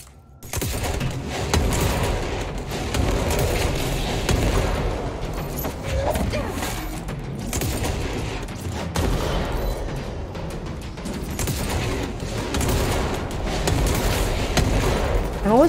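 Gunfire in the game Control rattles on almost without a break, with dense bursts of shots and heavy impacts packed under a steady roar. The shooting stays loud and close for the whole stretch.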